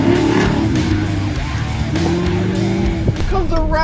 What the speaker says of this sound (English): Incredible dust storm behind me, but this car is a lot of fun actually in the dirt.